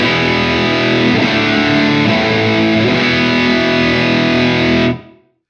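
An electric guitar through a Wampler Plexi Drive Mini overdrive pedal rings out a heavily distorted chord, thick and saturated for several seconds, then cuts off abruptly into silence.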